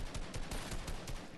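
Rapid gunfire from Fortnite, a fast series of sharp shots at an even rhythm, fairly faint and with no voices over it.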